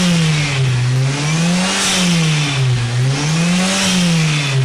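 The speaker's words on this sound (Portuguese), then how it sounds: "aquela válvula de prioridade, que nada mais é que faz o espirro do turbo" A turbocharged car engine revs up and down in slow, regular waves, a loud close drone rising and falling in pitch with a fluttering blow-off valve, and no voices.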